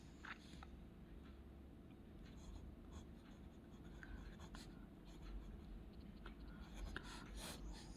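Writing out the standard form of a linear equation during a maths lesson: faint, soft scratching strokes come in short bursts against a quiet room.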